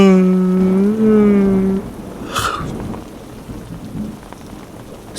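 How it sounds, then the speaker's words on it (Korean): Heavy rain hisses steadily throughout with a brief sharp rumble of thunder in the middle; for the first couple of seconds a sustained tonal hum sits loudly over the rain before dropping away. "뭐 이렇게 비가 많이 와."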